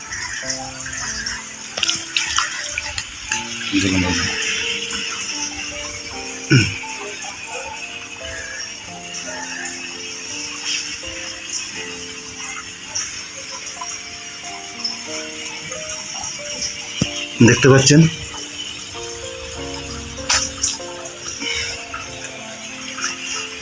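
Water runs steadily into a shing fish farming tank with a continuous hissing splash, broken now and then by louder sloshes and rattling knocks.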